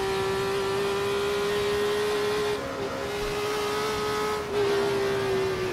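Retro race car engine in the Assetto Corsa driving game at Battenbergring, a steady sustained drone at constant revs with two brief dips as the throttle lifts into overrun, moderately loud and alone.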